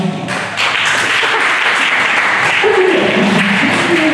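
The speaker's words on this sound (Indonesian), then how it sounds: "Boleh tepuk tangannya dong." An audience at a university talk on the Indonesian human rights commission at FISIP UI Depok breaks into applause, a steady, fairly loud clatter of many hands that sustains throughout, with a voice faintly heard near the end.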